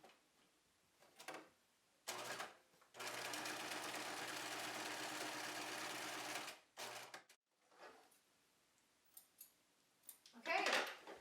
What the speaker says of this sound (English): you will sew through the whole wallet, just straight down that Velcro to attach it